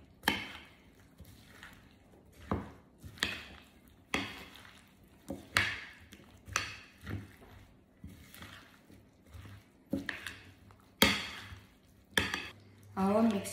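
Healthy cupcake batter being mixed by hand in a bowl, with a run of separate scraping and knocking strokes in an uneven rhythm, close and fairly loud against quiet gaps.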